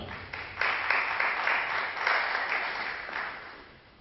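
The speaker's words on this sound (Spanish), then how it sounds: "Un aplauso para él, por favor." An audience in Quito claps for a university economics student introduced as a speaker, the applause swelling quickly, holding in a moderate wave, then tapering off.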